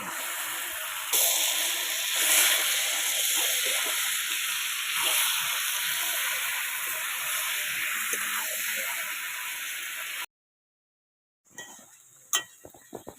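Chicken pieces going into a pan of well-fried masala, already releasing oil, for a chicken curry with kohlrabi; a steady close sizzle and frying hiss with stirring scrapes runs about ten seconds, then cuts out before faint clatter returns.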